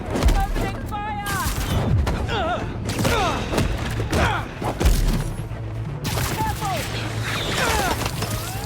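Gunfire in a battle scene from the game Marvel's Spider-Man 2: bursts of shots and thuds mixed with whooshing effects, chirping gadget sounds and a voice, loud and busy throughout.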